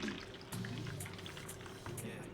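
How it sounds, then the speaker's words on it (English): Peach whiskey cosmo is poured into a glass, a soft trickling liquid flow with faint splashes and drips, quiet and close, while a person talks over it. "you're gonna take the little top off, pour it in your glass"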